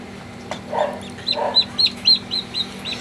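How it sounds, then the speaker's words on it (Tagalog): Newly hatched heritage chicken chick chirping, a run of about eight high, thin peeps in quick succession close by after a couple of soft rustling knocks, over a faint steady hum. "Malakas itong sisiw na to."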